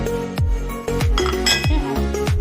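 Small pieces of potato and onion tipped into washed lentils in a metal pot, a quick run of clattering, clinking knocks against the pot, close and fairly loud.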